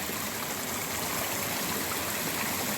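Stream flowing at a trail crossing on the Pemi Loop hike with low water, a continuous broadband rush and trickle heard close and steady with no voices.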